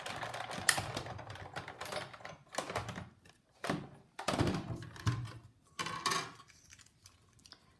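Cardstock and framelits sandwiched under a standard cutting pad are cranked through a manual die-cutting machine, giving a run of close, irregular thunks and creaks with short pauses between pushes, fairly quiet and without talk.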